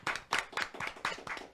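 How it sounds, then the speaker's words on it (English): A small audience claps for a musician joining a radio show, with a brief burst of close, sparse handclaps in an uneven rhythm lasting under two seconds. "Please give him a nice round of applause."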